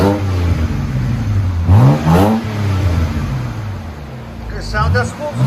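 2011 BMW 328xi with dual exhaust and rear muffler delete revving repeatedly, loud close engine rising and falling in several sharp climbs before settling to idle, with someone speaking between revs.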